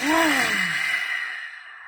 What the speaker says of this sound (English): and exhaling it all out with your mouth.